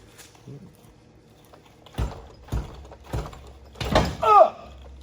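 Stock OEM Ford axle being pulled from the knuckle of a 2019 Mustang GT convertible, with a few separate clunks and metallic knocks building to a louder scrape and clank near the end, close by in a quiet garage.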